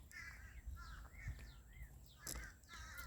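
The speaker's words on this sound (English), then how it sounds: "You hear all the birds. that are going to be flying in for sunset." Crows caw repeatedly at sunset, several harsh calls in irregular bursts at moderate distance against a quiet outdoor background, with no talking.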